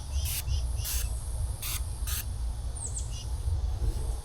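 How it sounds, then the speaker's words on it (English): Bug spray from an aerosol can, four short sharp hissing bursts in quick succession over low outdoor wind rumble, with a few faint bird chirps after. "1 minute it's bug spray."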